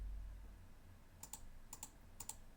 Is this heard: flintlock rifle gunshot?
no